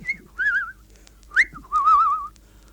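A man whistles a lilting tune from Beethoven's Eroica Symphony, outdoors on a cold moonlit night, in three warbling phrases with short pauses between them and a longer sustained run at the end, clear and close with no talk.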